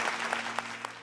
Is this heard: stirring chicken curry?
no